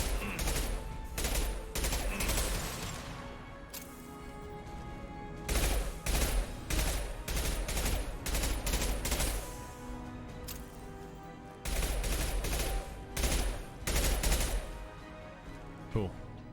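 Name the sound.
gunfire from a gun in video game Mass Effect 2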